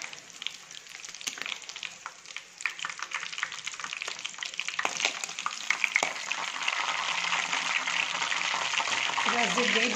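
Chicken fries in hot oil with a dense, steady crackling sizzle that builds and grows fuller toward the end, heard close up with faint voices in the background.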